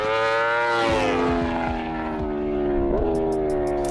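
A high-revving superbike engine, such as a Ducati Panigale V4 S, BMW S 1000 RR or Aprilia RSV4 1100, drones loudly, its pitch sliding down as it passes, with a brief rise near the end.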